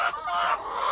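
Chickens clucking close by in a moved outdoor pen, a continuous chatter of overlapping calls from several birds with no talk over them.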